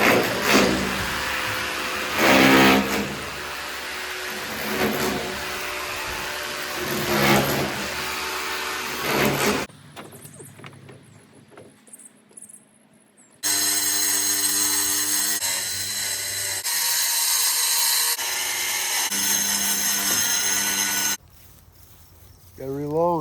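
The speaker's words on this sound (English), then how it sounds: "I'm going to put a couple holes in the corners so I can drill on the outside as well" A loud power drill drilling holes in a silo whirs in long sustained runs, cutting out briefly between bursts, with some wooden knocking early on.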